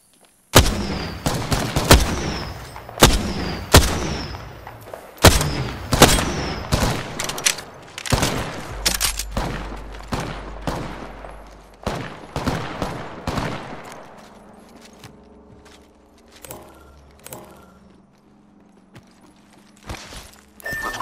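Gunfire in the video game Apex Legends, a rapid series of sharp loud shots in bursts that thin out into sparse single reports and mechanical clicks.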